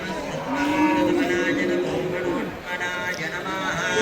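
Cattle wearing bells stand around a temple in Suthumalai, lowing loudly and steadily over a busy outdoor background, with voices talking at points.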